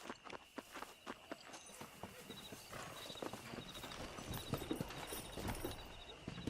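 Horse hooves clip-clop in a steady walking rhythm while riding in Red Dead Redemption on PS3, the hoofbeats close and distinct at first, then blending into a busier, quicker patter with faint ambient noise around them.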